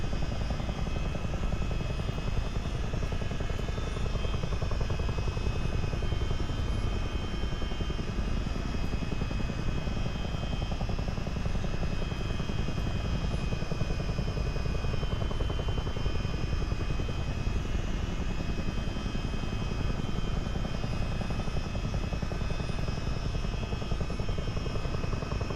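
A CH-47D Chinook helicopter flies in a multiplayer flight simulator over the Great Lakes, its rotors and engines making a loud, steady, dense drone that continues unbroken throughout.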